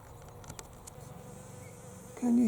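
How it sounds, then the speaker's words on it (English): Bees buzz up in a blossoming Osage orange tree, a faint, steady hum heard from a distance. A louder tone cuts in near the end. "Can you hear the bees up in the Osage Orange tree?"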